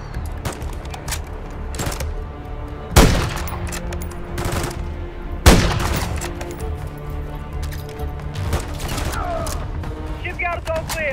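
Gunfire in Modern Warfare III rattles through as sustained, dense bursts of shots with two sharp, louder cracks standing out, and a mission voice talks over the action.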